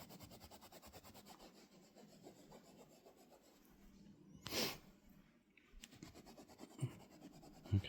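A damp cloth rubbed over a stain on a mattress, giving soft, steady scrubbing strokes in a quick repeated rhythm, close and quiet, with one brief louder hiss midway.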